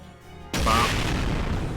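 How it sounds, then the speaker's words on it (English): Explosions go off in the video game Fate/Grand Order: after a quiet half-second, a sudden loud burst of booming blasts starts and holds steady as a dense, rumbling roar until the end. "Explosions!"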